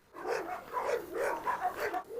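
A dog barks and yips close by in a quick series of about six short, excited barks over roughly two seconds.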